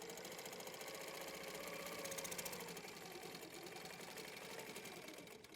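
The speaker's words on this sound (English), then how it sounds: "we're going to line that up and quilt down" A Handi Quilter longarm quilting machine stitches steadily along a ruler, a continuous, fairly loud mechanical whir with a fast, even needle rhythm throughout, without speech.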